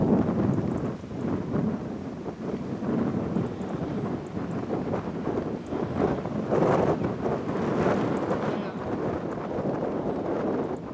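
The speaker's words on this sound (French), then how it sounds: "il y a toujours beaucoup de vent" Strong wind buffets the microphone in continuous gusty rumbles, with brief louder blasts, over faint outdoor background in Brittany.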